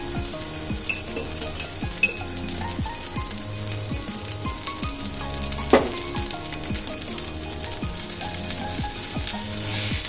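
Ghee sizzles on an overheated, partly scorched griddle while curd toast cooks, a steady close crackling fry broken by occasional scraping and stirring strokes, with no talking.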